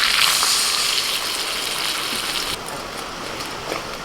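A water-mixed spice paste of ginger, turmeric, Kashmiri chilli powder, cumin and salt hisses loudly as it hits frying capsicum, tomato and chilli, settling into a steady, slightly softer sizzle partway through.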